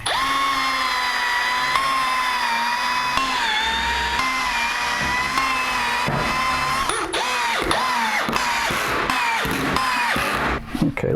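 A power drill drives 3/4-inch wood screws into a melamine crosscut sled, a steady loud whine held for several seconds, then short bursts of driving as the motor starts and stops near the end.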